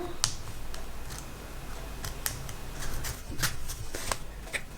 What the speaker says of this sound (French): Donc j'ai reçu une autre enveloppe comme ceci. Donc je vais essayer d'ouvrir aussi sans faire voir le nom.